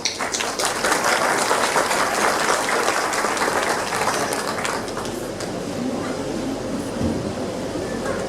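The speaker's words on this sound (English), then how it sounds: "Give a big round of applause for our little artists." A school hall audience of parents applauding little kindergarten artists at an expression day event, steady dense clapping that is loud at first and softens toward the end, with some murmuring beneath.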